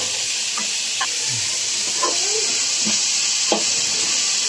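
Cluster beans sautéing with salt in a pan give a steady, close hiss of sizzling oil, broken by a few soft scrapes of stirring, with no voices.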